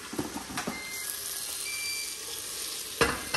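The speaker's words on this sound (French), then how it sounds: "une fois que votre viande est bien dorée, on va la retirer de la cuve du cookéo" Browned chicken pieces sizzling and crackling in a Cookeo pot as they are lifted out, a steady close frying hiss with a few sharp clicks of utensils.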